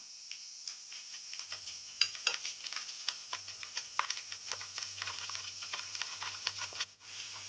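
Spice paste being sautéed in a pan for paneer pasanda over raised flame, a steady sizzle with quick irregular scraping and clinking of a spatula against the pan throughout, continuing until a sudden drop near the end.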